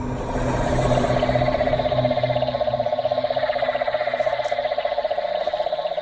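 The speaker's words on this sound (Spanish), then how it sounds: "podemos oír allí a un grupo de sapos llamando en este momento" A group of toads calls at night in a steady, pulsing trill chorus, fairly faint and continuous, with a low rumble fading away early on.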